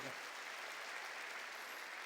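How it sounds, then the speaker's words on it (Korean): Applause from a church congregation during a Korean Sunday sermon, a steady dense wash of clapping at moderate distance, fairly quiet and continuous with no talk over it. "박수야"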